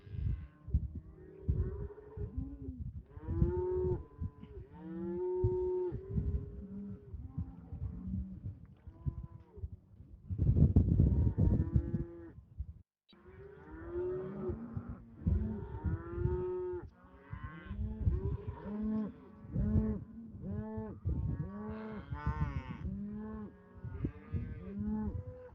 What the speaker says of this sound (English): You hear the cows?